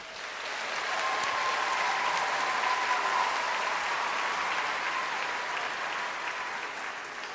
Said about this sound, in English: huge applause for our audience above all